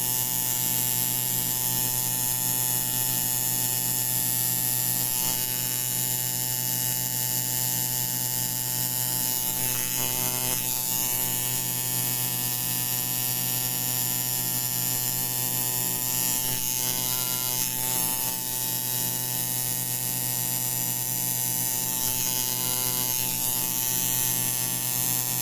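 Tattoo machine fitted with a lining needle in a paint-tip grip, running with a steady electric buzz and hum, close and unbroken with no pauses throughout.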